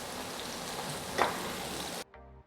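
Marinated steak on a char-grill gives a loud, steady, dense sizzle with a brief surge partway through, then cuts off abruptly near the end.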